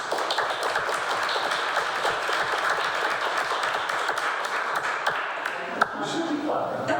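A room of people applauds with sharp, irregular claps, moderately loud and sustained, with a slight thump near the end.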